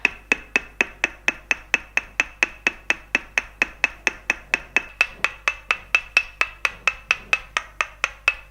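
Sharp, evenly spaced wooden taps from a wooden stick tapping on the soles and toes during a northern Thai massage repeat dozens of times in a quick steady rhythm, close and clear, with no talking.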